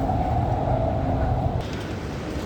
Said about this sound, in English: The most amazing thing about these trains is that there's no drivers. It's fully automated.